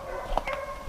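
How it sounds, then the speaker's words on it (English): Hound dogs bark and yip in a short burst during a deer hunt, the calls sounding somewhat distant over a steady outdoor background. "They started barking right away."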